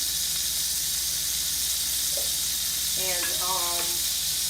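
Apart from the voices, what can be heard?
butter searing in pan for garlic shrimp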